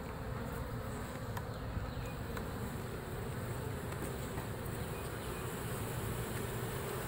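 Swarm of honeybees buzzing loudly and continuously during removal from an apartment building wall in Tampa, Florida, a dense steady drone with no voices.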